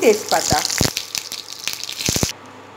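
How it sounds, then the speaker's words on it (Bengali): Bay leaf and cumin seeds dropped into hot mustard oil with ghee, sizzling and spitting in a short close burst, with a few utensil taps; the sound cuts off abruptly. "তেজপাতা আর সাদা জিরা আমি ফোড়ন দিয়ে দিয়েছি।"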